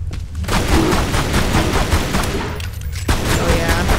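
Rapid gunfire in Tomb Raider Anniversary, a loud, dense rattle of repeated shots with a short break before resuming, close and sustained across the whole stretch.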